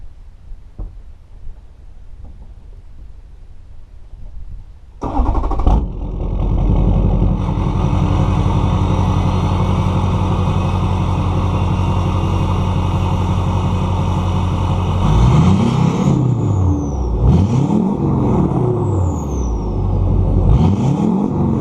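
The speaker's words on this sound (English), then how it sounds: "I'll show you what the 4-inch exhaust sounds like." A 2005 Duramax LLY diesel truck, mostly stock with a Diamond 4-inch exhaust, cranks and starts, then idles with a deep, loud exhaust rumble before revving up and down several times.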